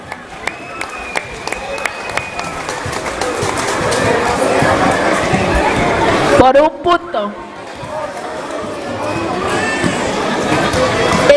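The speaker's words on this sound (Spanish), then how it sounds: "Que se escuchen los aplausos" Audience applause and cheering fill the gym after a close girls' basketball match in the Copa Regional Mixe eliminatory round, sustained crowd clapping and hubbub rising and holding with an announcer's voice over it.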